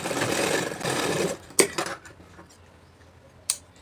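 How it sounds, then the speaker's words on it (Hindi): A sewing machine stitches along the seam margin of a shirt collar in a fast, loud burst, then stops, followed by a few sharp clicks and handling knocks. "अब हमें ये जो हमने मार्जिन छोड़ा, इसके ऊपर सिलाई लगा देना है।"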